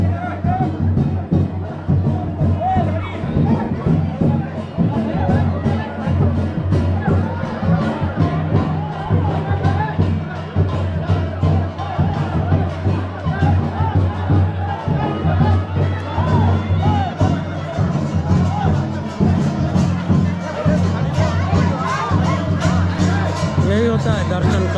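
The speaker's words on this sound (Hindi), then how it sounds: "श्रद्धालुओं का कितना भीड़ है देख सकते हैं आप।" A dense crowd of devotees fills a Maa Kali temple during Danda Nacha, a continuous close babble of many voices with occasional shouts and cheers rising over the din.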